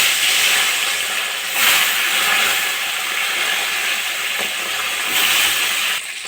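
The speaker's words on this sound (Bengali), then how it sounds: "মাছগুলো ভেজে নেব" Tilapia fish frying in hot mustard oil in a kadai, a loud continuous hiss and sizzle with brief surges, steady throughout with no talking.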